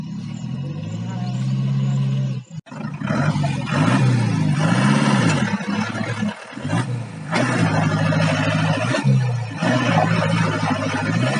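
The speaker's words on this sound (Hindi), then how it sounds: "ट्रैक्टर पहुंच गया है" A tractor engine drones and revs on a muddy farmhouse construction road, a loud close rumble rising and falling with gear changes, and people talk over it.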